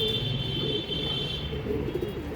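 Madras pigeons coo in low, soft repeated notes over a steady background hum, with a constant high-pitched tone running throughout.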